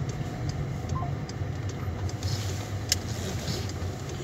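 A car rolls slowly onto a road crossing, its engine a steady low rumble throughout with a faint light clunk near the end; no voices.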